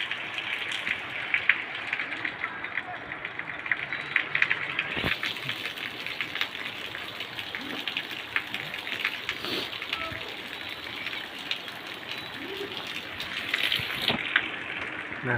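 Constant rain hisses and patters outdoors at a moderate level, with a few brief thumps breaking the steady wash of sound.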